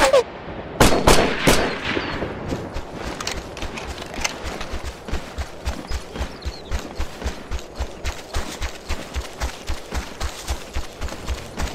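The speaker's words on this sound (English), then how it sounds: "Sounds like hostile fire!" Hostile gunfire in Operation Flashpoint Red River: a few loud close shots at the start, then a long steady run of evenly spaced rapid bursts, like sustained automatic fire.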